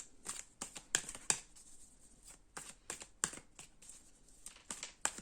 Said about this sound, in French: J'ai envie quand même de tirer une dernière carte du tarot qui va être le mot de la fin